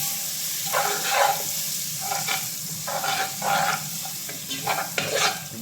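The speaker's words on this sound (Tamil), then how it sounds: "இஞ்சி பூண்டு பேஸ்ட்டு பச்சை வாசனை போகிற வரைக்கும் ஒரு 1 நிமிஷம் நல்லா வதக்கணும்" Ginger garlic paste sautéing in hot oil for tomato rice, a steady close sizzle broken by repeated scrapes and stirs of a spoon in the pan, with no talk.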